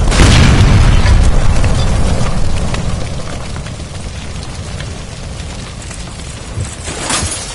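A gas line explosion in the L.A. Noire video game erupts as one loud, close boom, then trails off into a long, rumbling roar and crackle with a small flare near the end.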